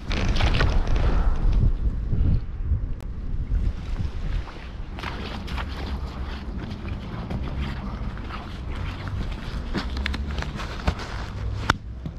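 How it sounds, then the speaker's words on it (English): Strong wind gusts across the microphone on a rocky island shore sheltered from the main blow, a loud rushing roar at first that settles into a steadier buffeting with faint surf and scattered knocks, no talk. "We've got a strong wind, but it's the other side of the island, so we're getting a lot of shelter here."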